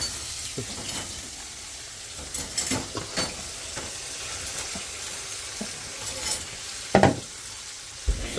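Spices being sautéed in a pan make a low, steady sizzle broken by irregular spoon scrapes and a couple of louder knocks near the end, close and without voices.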